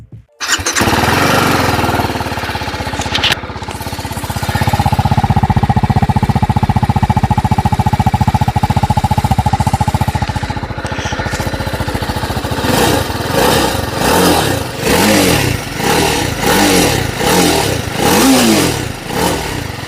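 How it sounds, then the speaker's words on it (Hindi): A 2022 TVS Apache RR310 sports motorcycle engine, set to urban riding mode, starts, idles with a steady rumble, then revs repeatedly in sharp bursts, loud and close, with no talking. "अभी हमारा जो बाइक है वो अर्बन मोड पे है और अभी मैं आपको इसका जो साउंड है वो सुनाता हूँ"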